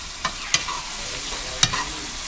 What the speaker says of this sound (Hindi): अब टमाटर को और प्याज को हम अच्छे तरीके से भून लेंगे बगैर मसाला डाले।